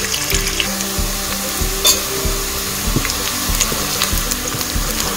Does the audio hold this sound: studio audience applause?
no